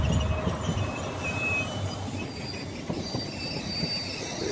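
Steady droning hum of locomotive 70017's cooling fans running at a rail depot, a continuous loud whirr with low rumble and faint higher tones, no talk.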